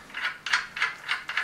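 Ratcheting clicks as a dummy timing chain tensioner is threaded into the cylinder head of a BMW M50TU/M52 or S50/S52 single-VANOS engine: five close, quiet bursts of rapid clicking at an even rhythm, with no talking.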